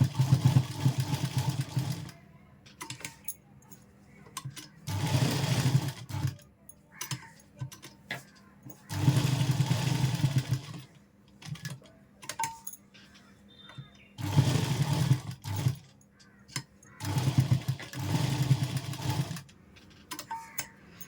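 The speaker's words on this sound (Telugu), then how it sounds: "ఒక కుట్టు వేద్దాం." A sewing machine stitches a puff sleeve in repeated bursts of steady whirring, each a second or two long, separated by quiet pauses, close and moderately loud.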